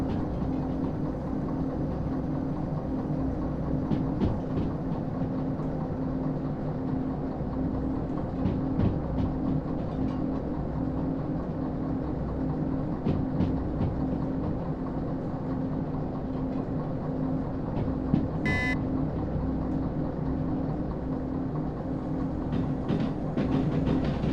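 A train rolling on rails at speed in the video game Derail Valley: a steady low rumble with clickety-clack joints ticking through it and one sharp metallic clank near the end.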